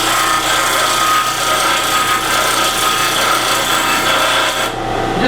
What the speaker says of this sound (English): over here in my disc sander I actually round off the end of the tool